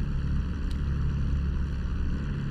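P-51D Mustang engine idling in a flight simulator game, a steady, loud, low rumbling drone holding constant throughout with no talking.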